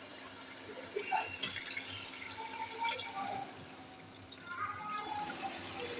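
Beef yakhni stock poured into the masala for nihari: a steady liquid pour and splashing that runs the whole time, with small bubbling and clinks over it.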